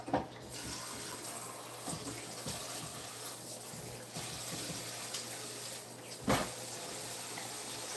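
Running tap water splashes steadily into a kitchen sink while a dish is washed, a continuous near wash with a few brief clatters and knocks.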